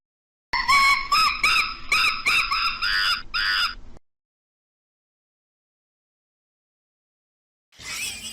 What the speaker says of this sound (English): Monkey.